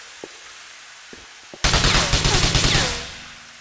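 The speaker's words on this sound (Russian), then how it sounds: "И сделаем пару выстрелов из автомата." A few faint clicks and taps, then a sudden loud burst of rapid automatic rifle fire in GTA IV rattling for over a second before trailing off.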